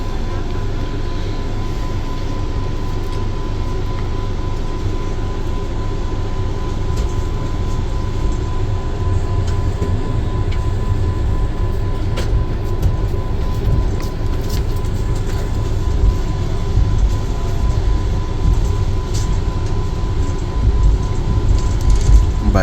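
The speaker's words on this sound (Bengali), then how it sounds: "আবার ছেড়ে দিয়েছে কিন্তু ট্রেন।" Vande Bharat Express on the Patna–Howrah route running after departing, a steady low rumble and rolling noise heard from inside the carriage, continuous and fairly loud with faint talk in the background.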